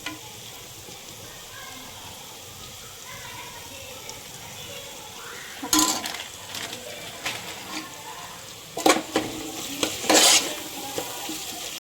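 Spices with cumin powder are stirred and fried in a pan for aloo biryani, with a soft steady sizzle beneath scraping and clinking spoon strokes against the pan.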